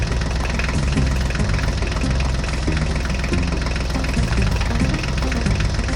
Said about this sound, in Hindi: चलो चलो बच्चों, अब हम ट्रैक्टर गाड़ी को लेकर आगे चलते हैं।